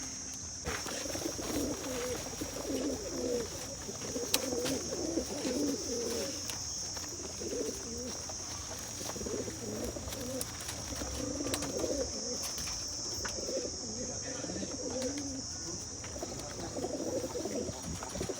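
Pigeons kept in a Moga loft coo steadily in repeated soft bursts, several birds overlapping close by, over a constant high hiss with no talking.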